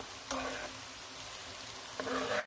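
Salt and sugar seasoning stirred into a pan for beef jerky, giving a steady low sizzle with two brief scraping strokes of the spoon at the start and near the end.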